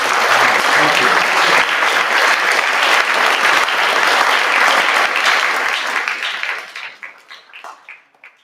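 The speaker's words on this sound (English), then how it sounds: "let's have a round of applause for all the students" Audience at a Subiaco Academy athletic awards ceremony applauding students, dense sustained clapping from a large crowd that thins out and fades to scattered claps at the end.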